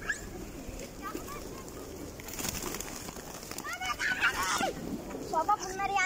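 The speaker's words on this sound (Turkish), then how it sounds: "Oo ne kadar güvercin var ya." Pigeons coo softly in the background of a busy outdoor scene as people talk over them, with a few clearer bird calls toward the end.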